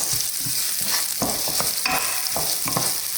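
Onions frying in a pan keep up a loud, continuous sizzle, broken by several quick scraping stirs.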